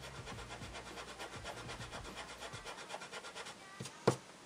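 The white eraser tip of an art marker is rubbed back and forth over ink on paper, producing a close, rhythmic scratchy scrubbing that fades out before a single sharp tap.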